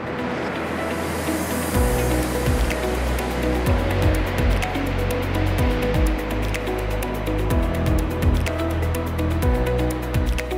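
Sea waves wash up on a beach in Valencia near El Cabanyal, giving a broad, steady surf hiss over a low rumble that may be wind. Scattered clicks and thumps come from nearby, and no one talks.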